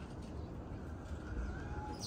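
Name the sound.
houbara pigeons cooing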